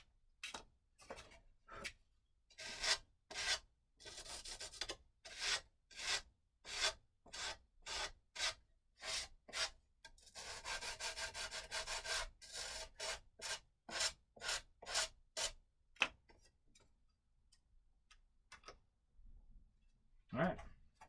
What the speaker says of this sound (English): Just finish sanding it off,